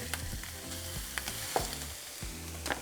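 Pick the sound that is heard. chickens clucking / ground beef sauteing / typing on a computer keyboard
ground beef sauteing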